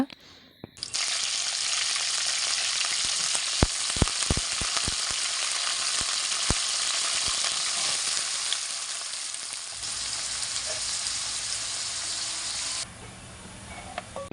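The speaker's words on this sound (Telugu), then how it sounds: "ఇంక ఇక్కడ ఆనియన్స్ అయితే మగ్గుతున్నాయి" Chopped onions sizzle in a pan for homemade chicken curry, a steady loud frying hiss with a few sharp clicks and knocks, no voices.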